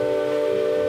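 The steam whistle of the Virginia V steamboat sounds as one loud, steady, tonal blast that holds for the full second without a break.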